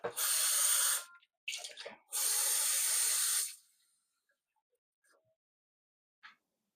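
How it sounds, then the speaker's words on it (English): Water is poured into a cooking pot for Jamaican stew peas with pig tail, giving two long hissing, splashing pours followed by a shorter one, close and fairly loud, then quiet with a few faint clinks. "I'm going to put some more water in this"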